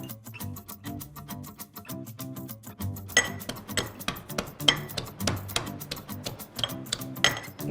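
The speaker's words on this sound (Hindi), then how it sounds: "थोड़ा सा गार्लिक कूट लेते हैं for that nice rustic feel" Garlic is pounded in a mortar for a Konkani-style mango curry. Sharp, regular clinking strikes keep a steady beat and grow louder and harder after a few seconds, close by with no talking.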